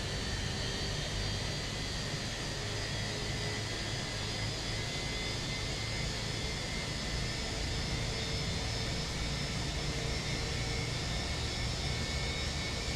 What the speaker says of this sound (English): engine 2 is starting up